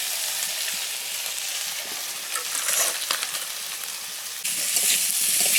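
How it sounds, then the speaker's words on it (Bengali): Potatoes frying in plenty of hot oil for a Bengali alu posto dish give a steady, close, dense sizzle that swells louder toward the end, with faint stirring scrapes mixed in. "এই আলুটা ভেজে নিচ্ছি"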